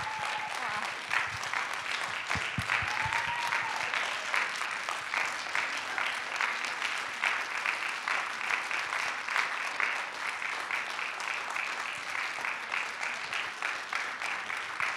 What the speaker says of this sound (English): So please just give a good round of applause to them.